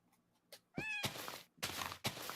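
A cat in the Minecraft video game gives a clear rising meow, followed by several soft thuds and rustling bursts, close and fairly quiet, with no speech.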